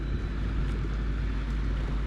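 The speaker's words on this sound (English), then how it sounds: "That's a good sounding, pretty cool tractor there." Low, continuous engine rumble of a Minneapolis Moline G950 tractor pulling away in high gear with its cab door open, loud and steady with wind noise across the microphone.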